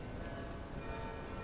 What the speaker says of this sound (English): they're ringing the bells until she finally